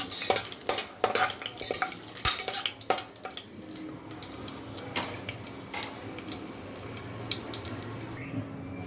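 A spoon scrapes and clinks against a pot as tomato rice is stirred, with irregular taps and rattles up close, busiest at the start and then quieter.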